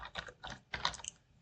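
Keys clatter on a computer keyboard in short bursts of quick taps with brief pauses between them, close and fairly quiet, with no talking.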